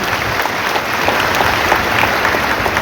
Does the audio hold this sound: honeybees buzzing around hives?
no